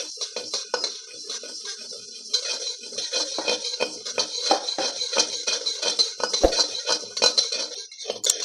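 Urad dal being dry roasted in a pan for a homemade health mix, with steady close scraping and clinking of a metal spoon against the pan and the grains rattling continuously throughout.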